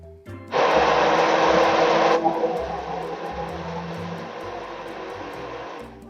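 A blender loudly blitzes onions in a continuous, close whir that starts abruptly, holds steady at full power for a moment, then settles into a slightly softer, even drone until the end.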